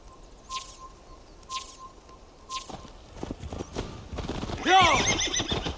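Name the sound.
horse neighing, from video game Assassin's Creed Valhalla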